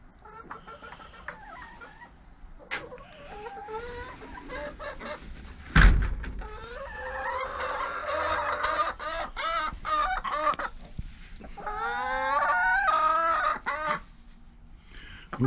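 Chickens cluck and squawk in a run of bursts, close and fairly loud, with a sharp door-slam-like bang partway through and busy clucking continuing afterward.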